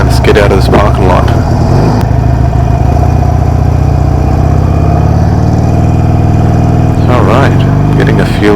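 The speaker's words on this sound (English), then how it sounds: "This is a 2016 Harley Davidson 883 Iron 883 Sportster." A 2016 Harley-Davidson Sportster Iron 883 motorcycle on a test ride in South San Francisco, its engine rumbling loudly and steadily close by with rising and falling revs, someone talking over it at the start and end.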